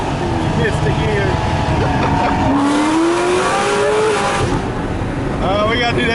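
A race car engine revs loudly and continuously after a missed gear shift, its pitch sweeping up and down through the whole clip, with a voice talking over it.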